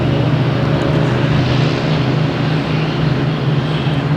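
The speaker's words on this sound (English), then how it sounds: "Here's JetBlue taking off" A JetBlue airliner takes off at Boston Logan Airport, its heavy, steady jet roar filling the whole short stretch at a constant strong level.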